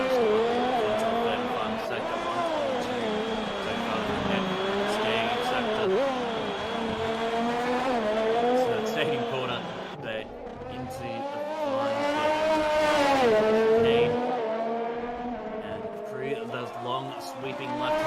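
An F1 race car on a hot lap in an F1 video game at Singapore screams steadily at high revs, its pitch rising and falling through gear changes and corners, under continuous commentary.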